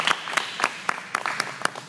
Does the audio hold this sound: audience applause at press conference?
yes